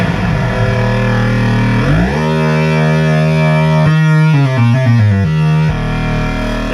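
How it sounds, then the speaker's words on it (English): Memorymoog polyphonic analog synthesizer in mono mode, a loud sustained buzzy chord whose voices glide together into one pitch, then several quick note changes sliding up and down before settling back, with no talking. "when I hit this note, you'll hear all those glides get pulled in"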